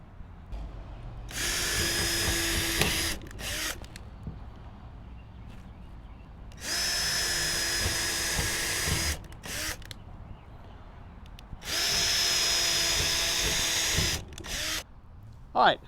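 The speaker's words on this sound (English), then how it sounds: "now that I've pre-drilled all my holes" Power drill boring pilot holes into 2x10 lumber for a raised garden bed: three sustained high-pitched whirring bursts of two to three seconds each, close and loud, separated by brief pauses, clicks and handling noise.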